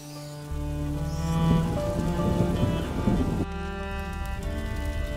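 Steady rain pours with a wash of drops on surfaces in the video game A Plague Tale: Innocence, set against a sustained musical drone and low rumble; the texture shifts partway through as the rain thins under the music.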